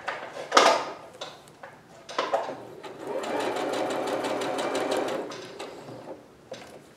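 A sewing machine runs steadily for a few seconds, stitching a diagonal seam in black thread. Its rapid mechanical whirr comes in close and loud, with handling knocks and clicks before and after the run.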